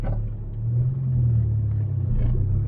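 A supercharged 1988 Toyota AW11 MR2 engine winds down, a steady low rumble holding close and even for about three seconds, with no voices over it.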